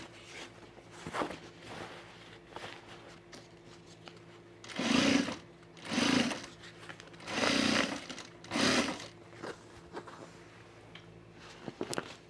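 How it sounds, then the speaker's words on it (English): A sewing machine stitches fabric in production sewing of a batch, running in four distinct bursts of steady mechanical whirring with quiet pauses between, fairly close and alone without talk. "I'm gonna sew this one"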